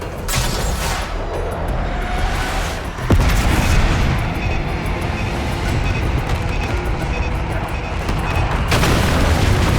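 Bombs from an air strike burst in Call of Duty Black Ops 6. Heavy booms and a sharp blast rise out of a constant rumbling din of battle, loud and continuous, with little speech.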